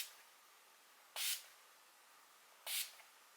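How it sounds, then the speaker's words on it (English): Two short, bright hissing bursts from a makeup setting spray, spaced a little over a second apart, misted close by against a quiet background. "I'm going to go ahead and use the Chill makeup spray because it's gotten kind of dry."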